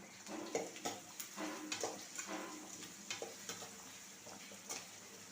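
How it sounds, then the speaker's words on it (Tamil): Onions frying until golden in a pan for home-style mutton kuzhambu: a soft continuous sizzle with rhythmic scraping stirs every half second or so, faint and close, no talk. "வெங்காயம் மட்டும் நல்லா பொன்னிறமா வதங்கி வரணும்"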